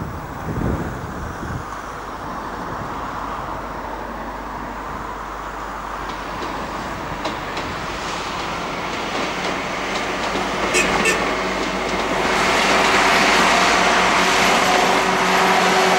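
A train runs along a line north of Cambridge, rumbling steadily and growing louder toward the end, with some clickety-clack and wind noise mixed in.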